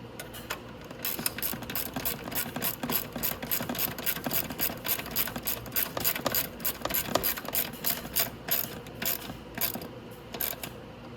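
A ratchet tightening nuts on the front shocks of a Venom E-Madix 1300w electric ATV, a rapid, continuous series of close clicking pawl strokes in an uneven rhythm.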